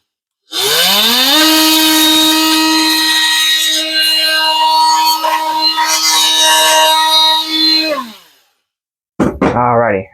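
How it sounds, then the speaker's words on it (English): An oscillating saw shaving a little material off the top of an AC part, a steady loud buzzing whine running for about eight seconds, then cutting off, followed by a brief sweeping tonal sound. "I got my oscillating saw here, so I'm just going to use the oscillating saw."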